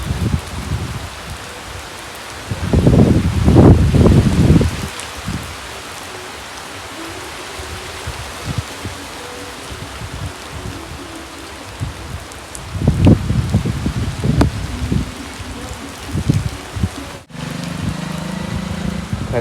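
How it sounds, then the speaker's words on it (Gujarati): A heavy, sudden rain with no clouds beforehand, falling outdoors with cattle nearby. It makes a steady broadband hiss throughout, with a couple of louder low rumbling bursts partway through. "હાલ અચાનક વરસાદ ચાલુ થઈ ગયો ધમધોકાર"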